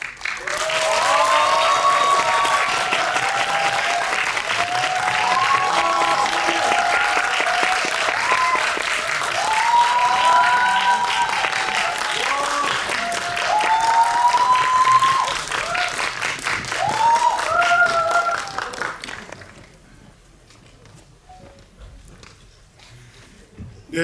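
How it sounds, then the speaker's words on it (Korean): A theater audience at a Korean film guest screening applauds to welcome the cast and directors, a long sustained roar of clapping with cheering voices on top, cutting off sharply near the end. "오늘의 게스트분들 큰 박수로 맞이하겠습니다."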